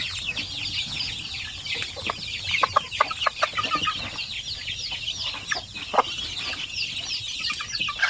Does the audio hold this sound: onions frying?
no